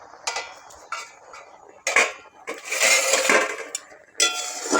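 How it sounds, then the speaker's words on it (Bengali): A metal lid comes off a pot of cooking jute leaves with clinks and clatters of cookware, followed by bursts of steamy hiss and a few more close knocks and scrapes. "ঢাকাটা খুলে দেখবো কেমন হয়েছে।"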